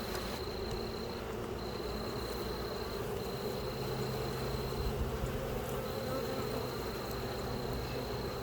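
Agitated Carniolan honey bees buzz thickly around an open hive, a dense, constant drone close to the ear, with a faint high steady tone running over it.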